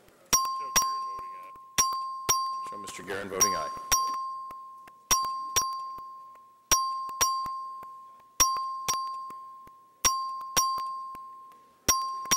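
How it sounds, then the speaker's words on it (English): A bell in a state House chamber rings repeatedly during a record vote on a bill, sharp metallic dings recurring about every second or two with long ringing decay, while a voice briefly speaks over it. "Clerk, ring the bell."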